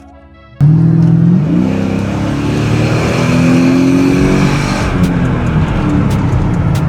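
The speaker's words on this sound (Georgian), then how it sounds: "როცა ყავს პიატინოლი და დიდძრავიანი მანქანა, უეჭველი ხმა ესეთი უნდა კონდეს მაგ მანქანას." Mercedes-Benz W211 with the M113 5.0 V8 engine revving: a loud, close engine roar bursts in suddenly, rises in pitch, holds a deep rumbling drone, then settles into a steady growl.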